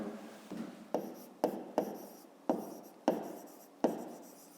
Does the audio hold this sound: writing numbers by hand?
yes